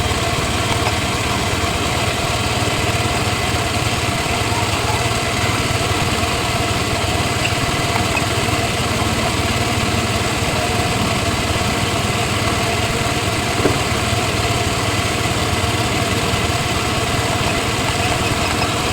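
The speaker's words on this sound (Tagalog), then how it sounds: "Pagdarin natin yung makina" A Yamaha motorcycle engine idles steadily and close by for the whole stretch, a constant even drone with no speech.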